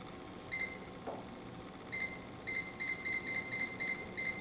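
A Testo 316-4 refrigerant leak detector sniffing for R134a beeps, first with a single tone, then with a steady run of short, evenly spaced high beeps over a low background hum.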